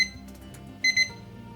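A Pearl 30th-anniversary collector's edition alarm clock with two alarms gives two short electronic beeps close by, following a few faint clicks, in an otherwise quiet room with no talk.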